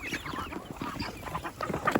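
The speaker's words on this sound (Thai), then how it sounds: "นี่ไก่พันค่ะ" A flock of bantam chickens clucks and chatters continuously at close range on a farm, with overlapping calls and a few higher squawks toward the end.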